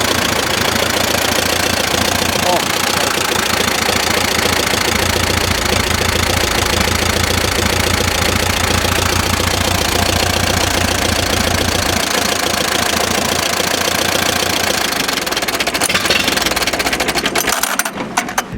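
A 1936 Allis Chalmers tractor engine runs steadily at idle with a loud, continuous knocking chug, close by and without talk, faltering briefly near the end.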